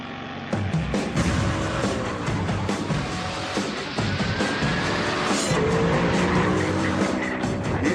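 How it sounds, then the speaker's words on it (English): Supercar with a 4.2-litre V8 engine driving hard, a loud, steady engine roar with shifting pitch and tyre noise, continuous throughout with no talk. "By any measure, it's a full-on supercar"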